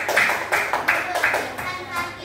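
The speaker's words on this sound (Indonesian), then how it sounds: "Tepuk tangan." A small group, likely children in a classroom, claps hands in a few quick rhythmic bursts at close range, with voices talking over and around the clapping.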